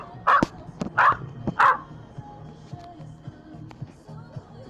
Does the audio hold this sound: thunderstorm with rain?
no